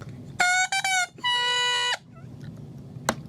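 A scraped cane reed blown in short bursts crows, giving bright, buzzy, harmonic-rich squawks, a few quick ones then a longer sustained note with a slight pitch dip, followed by quiet and a small click.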